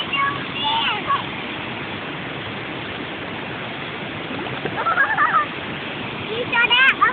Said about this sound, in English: Waterfall is over there.